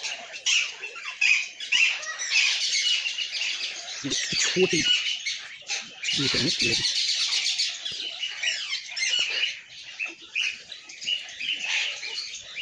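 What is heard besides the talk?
red-breasted parakeets calling at a zoo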